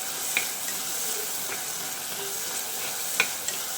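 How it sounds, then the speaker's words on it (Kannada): Onions sizzle steadily in hot oil for a fish curry, a constant close frying hiss with a few light clicks of a spoon stirring the pan and no voices. "ಫ್ರೈ ಮಾಡಿರಿ, ಫ್ರೈ ಆಗಲಿ ಫ್ರೆಂಡ್ಸ್ ಚೆನ್ನಾಗಿ. ಆ ಸ್ಮೆಲ್ ಹೋಗಬೇಕು, ಆನಿಯನ್ ಸ್ಮೆಲ್ ಹೋಗ್ಬೇಕು."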